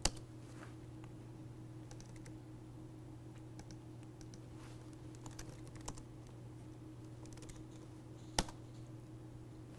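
Faint keystrokes on a computer keyboard as a password is typed, scattered soft clicks over a steady low electrical hum, with one sharper tap near the end and no talking.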